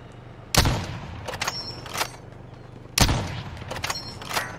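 Two loud bursts of video game gunfire, a few seconds apart, each with sharp reports and a short trailing echo, with quieter shots between over a low background hum.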